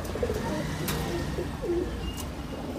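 Black Musallam pigeons coo softly several times close by, with a low, murmuring rhythm over a steady background hiss.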